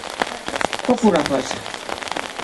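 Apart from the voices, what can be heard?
rain falling at an outdoor opening ceremony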